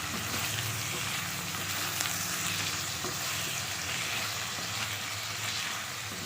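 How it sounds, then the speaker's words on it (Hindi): Small chopped tomatoes fry together with fried potato slices in a pan, giving a close, continuous sizzle with faint stirring scrapes and no pauses, no voices heard. "थर्टी सेकेंड तक हम इस तरीके से इसको अच्छे से भून लेंगे टमाटर को"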